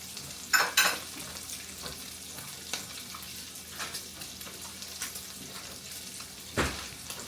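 Bacon sizzles and spits in a frying pan for a breakfast fry-up, a steady crackle broken by occasional louder pops and stirring scrapes, with no talking.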